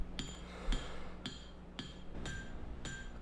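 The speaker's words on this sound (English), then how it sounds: "I'm going to go ahead and forge the bevel in a little bit here." A hammer strikes 52100 high carbon steel while forging a knife bevel, six sharp ringing blows at an even, unhurried pace, fairly faint with a low background hum and no talk.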